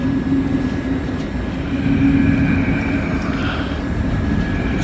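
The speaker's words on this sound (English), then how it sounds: "But here comes our train." A train pulls into a station with a steady, heavy low rumble and a faint high metallic squeal rising near the end, fairly loud and continuous.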